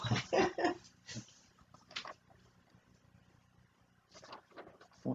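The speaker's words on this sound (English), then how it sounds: "My dog has to go outside" A dog whimpers and whines in short, uneven bursts that cluster at the start and return toward the end, fairly close and moderately loud, with quiet gaps between them and no talking.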